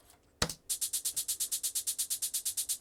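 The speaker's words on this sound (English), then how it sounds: "I want like a closed hi-hat." A programmed closed hi-hat from a music production session plays back alone as a fast, steady run of short crisp ticks, evenly spaced and close, after a single louder hit at the start.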